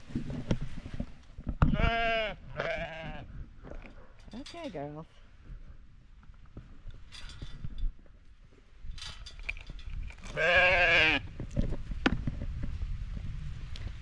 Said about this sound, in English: I'll probably feed the sheep first, though, because they're so loud